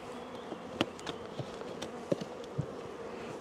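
Honey bees fill a well-stocked hive box with a soft, steady drone, with a few faint clicks and knocks, close and continuous without talk.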